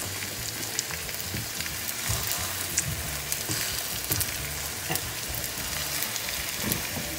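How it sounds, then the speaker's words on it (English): Chicken patties cook in a little olive oil in a pan, giving a steady, close crackling sizzle with small spitting pops throughout. "Now we're gonna cook our patties."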